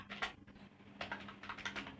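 Typing on a computer keyboard at a terminal, light clustered keystrokes in short bursts, quiet and close, with a faint steady hum underneath and no talk.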